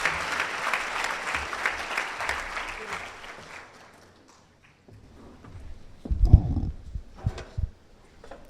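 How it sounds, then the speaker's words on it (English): Kids at an MLK event receive a round of applause from the audience, steady crowd clapping for about four seconds before it fades out, followed by quiet and a few scattered low thumps and rustles. "Let's give the kids a great round of applause"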